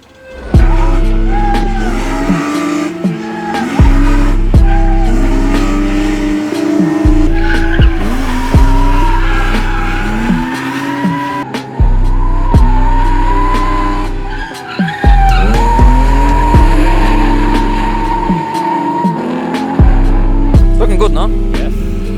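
A BMW E30 drift car skids through repeated slides on a test drive, its tires squealing loudly over a revving engine that climbs and drops in pitch across a rhythmic run of bursts.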